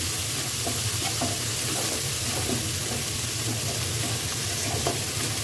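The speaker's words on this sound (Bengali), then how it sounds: "এই তেলটাতেই পেঁয়াজ বাটা, রসুন বাটা, আদা বাটা দিয়ে দিয়েছি" Onion, garlic and ginger paste fries in hot oil for chicken biryani, a steady close sizzle with intermittent stirring scrapes running continuously, with no voices.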